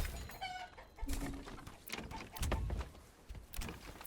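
Chickens clucking around coops in the medieval village game Manor Lords, soft scattered bird calls over low farmyard ambience.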